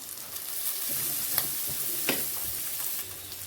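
Peas and onions fry in a pan with a steady soft sizzle, broken by a couple of brief scraping stirs, heard up close with no talking.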